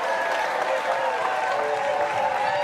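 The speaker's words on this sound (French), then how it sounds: "On va applaudir très fort" Audience at a live comedy show clapping loudly and continuously, a dense wash of applause with some crowd voices mixed in.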